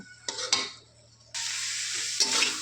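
Leafy greens sizzle and fry in a hot pan as they are stirred, with bursts of hissing and scraping that swell and fade in waves, close up and with no talking.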